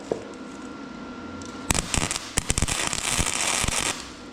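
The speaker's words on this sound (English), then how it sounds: "Alright, so now let's weld this." Welding metal for a custom sign with chain, heard as sudden loud crackling and sputtering bursts after a quiet hum, continuing in irregular sharp pops and a steady fizz.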